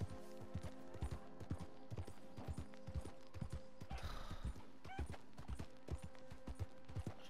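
A horse gallops in Red Dead Redemption 2, with quick rhythmic hoofbeats thudding close throughout, a brief whinny partway through and faint mechanical clatter behind, played quietly.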